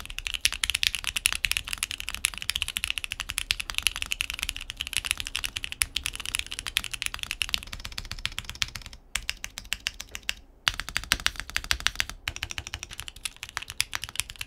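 Brisk, continuous typing on a QK75n mechanical keyboard fitted with a palm plate, crisp dense clacks close to the mic with a few brief pauses.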